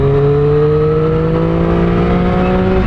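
A 2024 Triumph Street Triple 765RS engine revs hard, its loud tonal whine climbing steadily in pitch as it pulls through the rev range, close and continuous, under wind and road noise.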